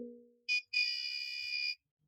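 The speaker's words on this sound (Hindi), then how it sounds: "एक बजर साउंड कंटिन्यू बीप होगा" A homemade Arduino smart door lock buzzer sounds a short beep and then one long continuous electronic tone after a wrong password is entered, loud and alone after a brief low hum fades.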